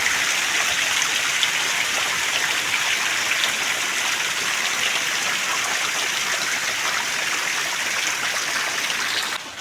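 Heavy rain pours onto flooded rice paddy fields, a dense, unbroken hiss of falling water filling the whole stretch at close range with no voices.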